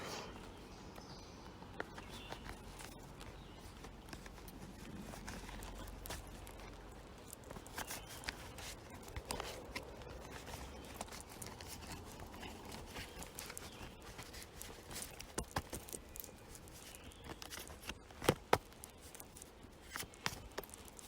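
Faint, soft clicks and papery riffling of tarot cards being shuffled, repeating irregularly in a quiet room.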